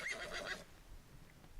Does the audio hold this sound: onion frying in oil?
no